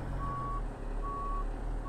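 A large truck's reversing alarm in the Truck World driving game gives evenly spaced, steady electronic beeps over a low engine rumble.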